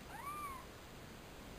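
A new kitten lets out a single rising-and-falling meow, fairly clear against a low background hiss, with no talking.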